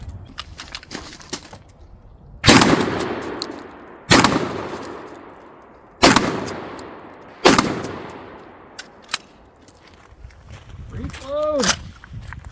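A Cyelee Wolf X Pro shotgun fires slugs and buckshot, four loud, sharp blasts spaced a couple of seconds apart, each trailing off, with shuffling movement and scattered small noises between them.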